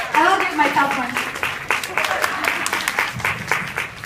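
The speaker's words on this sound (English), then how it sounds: "Give yourselves a nice round of applause for making it here today." A self-defense seminar audience breaks into applause, scattered sharp claps building into a loose round, while a voice talks over the opening moments.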